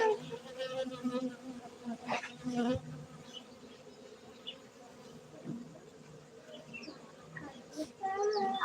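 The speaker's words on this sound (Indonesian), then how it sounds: "Ada lebah besar." Large bees buzz steadily at a honey bee farm in Gayo, Aceh, a close, droning hum with brief louder swells as insects pass near, and faint voices in the background.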